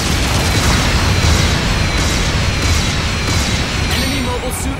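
A mobile suit explodes in Gundam Battle Operation 2, a dense, loud rumbling blast sustained over several seconds amid ongoing battle noise, with no clear separate bursts.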